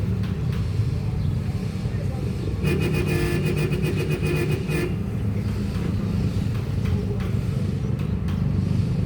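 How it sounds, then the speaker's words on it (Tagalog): Habal-habal motorcycle taxis in Bantayan pass close by on a road, a steady mid-pitched engine drone with a brief louder revving stretch, under continuous traffic noise. "Yan ang mga motor habal-habal."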